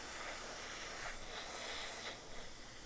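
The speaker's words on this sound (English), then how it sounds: "So just spray it" Spray paint hissing out as a base coat is applied, a soft steady aerosol hiss lasting a few seconds, faint and close with no talk.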